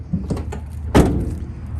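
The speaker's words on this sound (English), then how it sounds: "if we open up this back door, these doors can actually swing out all the way across to the side" Rear door of a 2021 Ford Transit 350 AWD high-roof van opening, a few soft latch clicks followed by a single louder clunk as the door releases and swings, close by with no talking.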